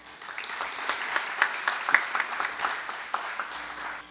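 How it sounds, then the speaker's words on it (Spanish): An audience at a climate-change symposium of Pacific Alliance local actors applauds a welcome speaker, with uneven clapping that swells and fades over about four seconds and no voice above it. "Aplausos, por favor."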